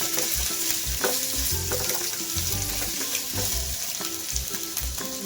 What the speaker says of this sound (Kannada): ನೋಡಿ, ಇವಾಗ ಫ್ರೈ ಆಗಿದೆ.